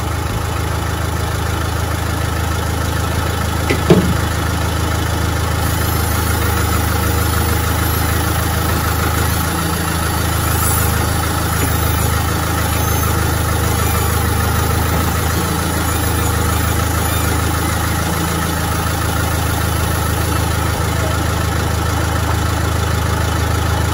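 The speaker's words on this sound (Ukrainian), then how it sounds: "ви послухаєте, як насос ось цей вмикається і жужжить так цікаво" Electric power steering pump on a Renault Sandero 2 Stepway whirring steadily beside the idling engine, a continuous even drone with a faint high whine, no talk.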